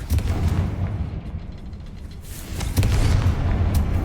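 A Confringo fire spell explodes in the video game Hogwarts Legacy, giving a loud, rumbling boom that rolls on for a few seconds, with a second heavy burst near the end.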